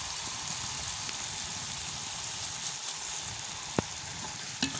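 A village curry frying in a pan with turmeric and sugar, giving a steady close sizzle throughout, broken by a couple of brief clinks as the spoon stirs it.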